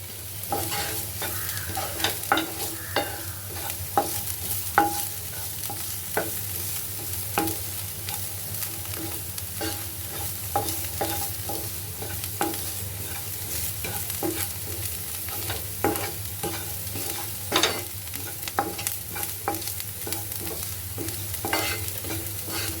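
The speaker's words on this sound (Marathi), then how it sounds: "आपला कांदा भाजतच आलेला आहे" Onion fries in a pan with constant sizzling and frequent spoon or spatula scrapes and taps against the pan, close and fairly loud, with no talking, for a bitter gourd dish.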